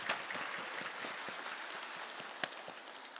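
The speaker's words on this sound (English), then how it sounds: "Give them applause." Faint, distant applause from a crowd at a competition opening ceremony, a steady patter of many hands clapping with a few sharper claps standing out.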